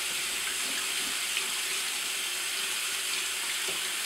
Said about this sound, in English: So just under the tap.